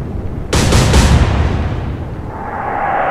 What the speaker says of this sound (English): the rockets aren't doing that much damage